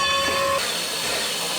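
Everett Railroad steam locomotive number 11 with its train at Hollidaysburg, Pennsylvania, giving a brief whistle tone that cuts off into a loud, steady steam hiss.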